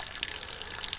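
Water draining out of an old car during winter maintenance, either a 1967 Buick or a 1976 Ford, a steady close hiss of running liquid pouring out without a break.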